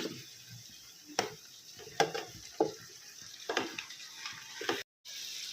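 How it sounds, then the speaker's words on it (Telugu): Quiet sizzling of marinated mutton added to fried onions in a pan, with sharp clattering stirs at irregular intervals, close by, no talking. "ఈ మ్యాగ్నేట్ చేసుకున్న మటన్ వేసేసుకుందామండి"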